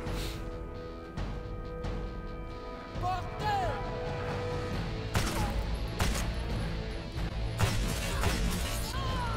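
Gunfire in the video game Wanted, several sharp shots and crashes over a busy game soundscape with music and effects, loud and close, a voice talking now and then.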